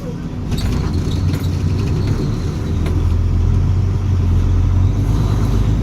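A car engine pulling in third gear, with a loud, steady rumble that swells a little toward the end and light rattles inside the cabin.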